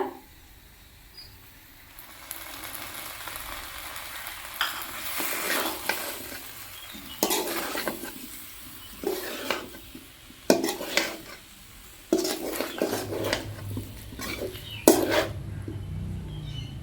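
Gram flour (besan) fries in a pan for a besan aloo dish, with repeated scraping stirs of a spoon against the metal and a light sizzle, close and without talk.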